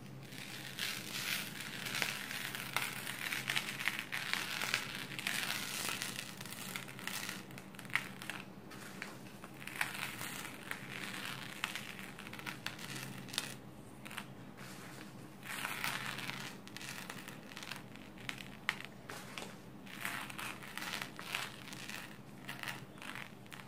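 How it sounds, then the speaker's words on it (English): Iron powder is sprinkled onto a sheet of paper over a magnet, giving a long run of faint dry crackling and rustling with scattered small ticks and grainy patter, steady and close with no talk. "Now, I am going to sprinkle this iron powder onto the paper."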